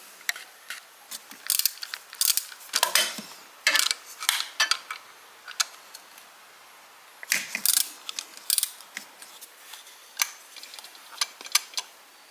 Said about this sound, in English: I'm gonna have to loosen up that bolt